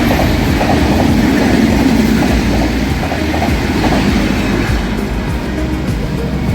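A moving passenger train roars loudly and steadily from inside a carriage, with a rhythmic clickety-clack of wheels over rail joints running under the constant rumble.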